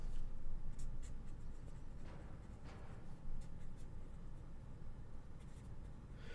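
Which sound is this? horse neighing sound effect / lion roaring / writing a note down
writing a note down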